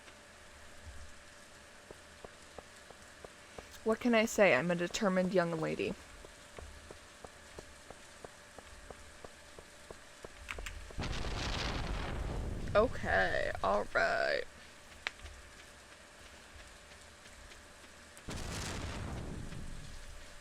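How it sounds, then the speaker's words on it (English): Rain in the farming video game Stardew Valley comes as a steady hiss that rises to heavy downpour bursts, along with a soft tonal game hum and a voice talking over parts of it. "The rain is kind of crazy right now."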